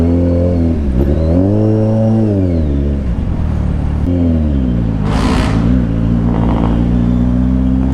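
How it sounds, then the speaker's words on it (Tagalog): Heavy weekend road traffic with a steady loud engine drone from nearby vehicles, a motorbike revving and changing pitch as it shifts gears, and a brief hiss partway through. "Ang tindi ng traffic."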